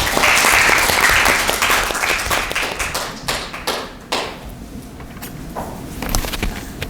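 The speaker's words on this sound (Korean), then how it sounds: "큰 박수로 맞이해 주시기 바랍니다" An audience of middle and high school students at a diplomat's lecture bursts into loud applause that thins after a few seconds into scattered individual claps and a few thuds before fading.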